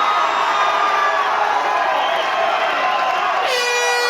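A fight crowd at a FIGHT4PRIDE combat sports event cheers and whoops loudly and continuously, a dense wall of voices, ending in a sustained horn-like tone.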